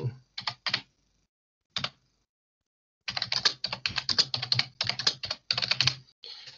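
Computer keyboard typing an AI image prompt: a few isolated keystrokes, a pause, then a quick steady burst of clacking keys, close and fairly quiet, with no talking.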